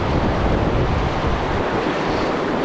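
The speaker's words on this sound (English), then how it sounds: "I don't know if you can tell how windy it is." Strong wind beside the Nantahala River in western North Carolina roars steadily against the microphone, a dense continuous buffeting rush with no voices.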